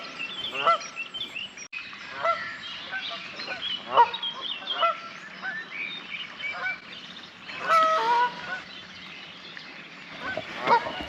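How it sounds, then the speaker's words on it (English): A flock of Canada geese on the River Weaver honks repeatedly from a moderate distance, overlapping calls rising and falling in irregular bursts. "So Canada geese, noisy twats, absolutely."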